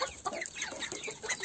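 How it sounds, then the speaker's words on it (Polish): Young chickens and ducks in a cage: faint, close clucking and soft chirping peeps in quick irregular bursts, with no talk. "Patrzcie, jak już podrosły te kurczaki i kaczki."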